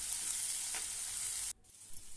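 Tomato curry sizzles in a pan under a faint, steady hiss with a light stir, cutting off abruptly near the end.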